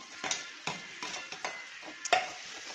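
Green chilli and capsicum are stirred and sautéed in a pan for pav bhaji, with a soft sizzle broken by several sharp spatula scrapes and clinks against the pan, heard close and without voices.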